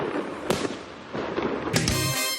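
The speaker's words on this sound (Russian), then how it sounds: "поддержали ребят праздничным салютом" Celebratory fireworks salute set off outside an infectious diseases hospital in Kazan, with several sharp explosive bursts and crackling over a continuous rumble of distant detonations.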